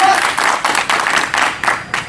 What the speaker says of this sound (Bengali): করতালি আরেকবার চাই